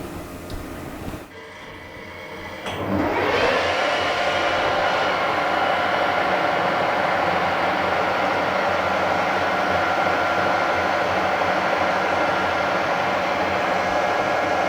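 A Harrison milling head cuts a taper pin with a hand-ground quarter-inch high-speed steel tool, starting after a brief quieter moment into a steady, loud, continuous machining whine and hum that holds evenly to the end.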